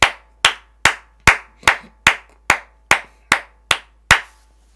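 Eleven sharp, evenly spaced claps in a steady, slow rhythm during a church service, close and clear with no voices or cheering.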